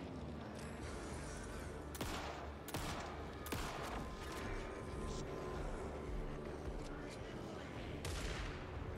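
Gunfire in Alan Wake II as the player is shot from behind, several sharp bursts of shots at irregular intervals over a dense, rumbling background.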